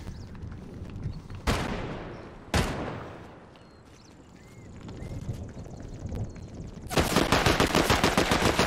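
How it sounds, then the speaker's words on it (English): Loud gunfire in Fortnite aimed at a set of stairs: two sharp single blasts with ringing tails, a quieter stretch, then a fast rattling burst of automatic fire, with no talking. "Shooting the shit out of the stairs."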